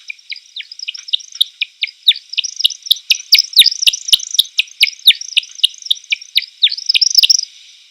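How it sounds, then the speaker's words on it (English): American woodcock display flight: a long run of rapid, high, thin twittering chirps and chips that grows busier and more intense, fairly close and clear, with no voices. "So that's the American woodcock."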